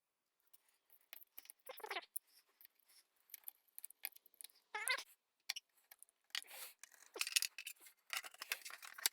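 A plastic tie is snipped off freshly wrapped motorcycle exhaust heat wrap: faint scissor clicks and light rustling in scattered bursts, close but quiet, with no speech.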